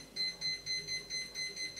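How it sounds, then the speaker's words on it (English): An oven timer being set gives a series of regular electronic beeps, about six evenly spaced pulses, close and clear over a quiet kitchen background. "set the timer for 18 or 19 minutes"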